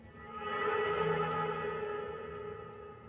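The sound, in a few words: digital screech sound effect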